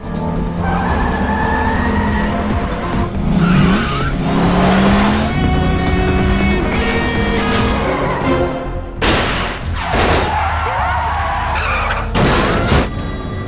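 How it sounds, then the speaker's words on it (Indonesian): In an action film, a car's engine roars loudly as it accelerates, and its tires squeal and skid repeatedly, with a few sharp bursts near the end of the sustained chase. "Don pun kembali menancap gas mobilnya"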